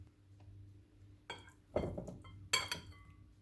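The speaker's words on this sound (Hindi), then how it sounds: "एक बाउल में फ़िश डालेंगे" Fish pieces go into a bowl while a Dhaka fried fish marinade is prepared, giving a few quiet, close clinks and soft knocks against the dish in an otherwise calm kitchen.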